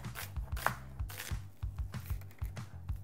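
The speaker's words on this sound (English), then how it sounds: "And I'm just going to thinly slice it." A knife thinly slices half an onion on a cutting board, with a quick, even run of a dozen or so crisp close-up chops and board taps and no talking.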